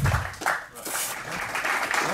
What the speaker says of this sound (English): Warm applause for this.